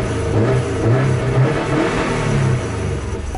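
A popular car's engine runs close by in the United States, a deep rumbling idle that swells with a few revs before easing back, loud and steady without talk.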